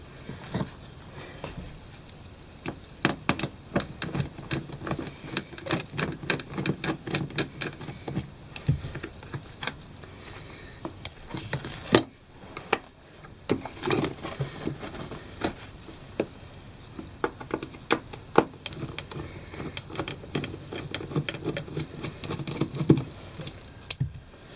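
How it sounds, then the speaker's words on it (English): Four screws are backed out with a screwdriver on an RV slide-out seal, giving soft rapid ticking and clicking in bursts, close up and fairly faint, with a short pause midway and no talking. "So let me go ahead and remove the 4 screws."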